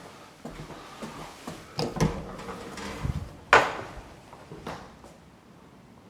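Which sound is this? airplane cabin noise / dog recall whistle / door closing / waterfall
door closing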